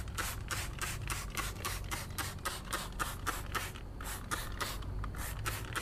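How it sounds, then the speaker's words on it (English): A brush scrubs a car tire with wheel cleaner in fast rhythmic back-and-forth strokes, a steady train of close, wet bristly swishes. "So a couple of sprays on the brush, a couple of sprays on the wheel. And yeah, I'm gonna go to the tire again."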